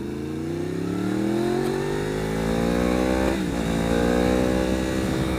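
A 2015 Yamaha R1 sportbike engine revs up in a steady climbing whine, briefly drops as it shifts near the middle, then pulls higher again, close and loud out on the road.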